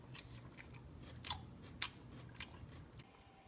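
Close-up crunching as someone bites and chews raw zucchini, a handful of soft, crisp crunches spread over a few seconds against a quiet background.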